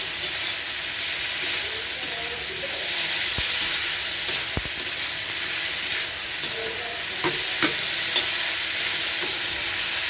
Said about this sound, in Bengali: দেখো এখন একটু কষিয়ে নিয়ে জল দিয়ে দিলেই হয়ে যাবে।